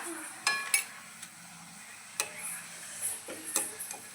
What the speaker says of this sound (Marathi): हे आहे मॅगी छान असं तेलामध्ये भाजून घ्यायची आपल्याला